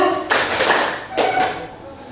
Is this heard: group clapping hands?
yes